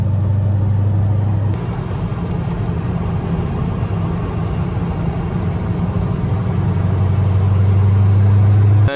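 A Ford GT40 replica runs on a race circuit, its engine a steady loud drone that holds for several seconds with a brief shift in tone near the start, heard alone without talk.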